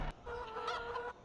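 Chickens cluck in a Farming Simulator 2015 farmyard: a short, close burst of hen clucking with a brief sharp note at the start, no talking over it.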